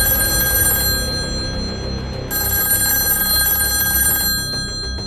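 A telephone rings in bursts of steady bright tones with a short gap between them, the call going to a police control room.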